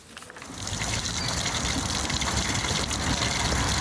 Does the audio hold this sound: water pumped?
yes